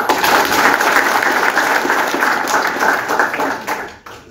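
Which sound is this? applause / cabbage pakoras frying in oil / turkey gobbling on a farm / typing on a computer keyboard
applause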